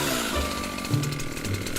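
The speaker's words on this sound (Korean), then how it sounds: "그때 들리는 전기톱 소리." A chainsaw runs steadily with a harsh buzzing drone and shifting engine pitch, loud and continuous throughout, in an animated fantasy scene where a woman wields it.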